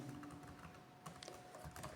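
Keys tapped on a computer keyboard while code is typed, a quiet, irregular run of soft clicks with a faint steady hum behind them and no voice.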